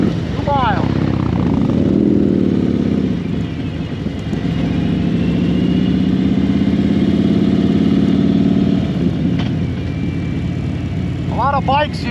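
Several motorcycles idle and putter together on the ride into Daytona, making a steady mid-pitched engine rumble that rises and falls while people talk nearby.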